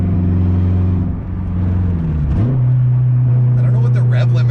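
A turbocharged 8th-gen Honda Civic engine revs up and holds at its rev limiter around 3,500 rpm. A loud, steady droning hum dips briefly, then climbs and sustains a constant buzzing pitch close to the car.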